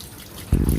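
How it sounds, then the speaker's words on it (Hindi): Tap water runs into clothes being washed by hand, starting suddenly partway through as a loud, steady splashing gush after a quiet lead-in. "दोबारा से आपने पानी डाल दिया इसमें अच्छी तरह"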